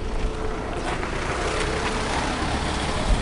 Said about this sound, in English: Oops, sorry about noise, there's a rock lorry coming.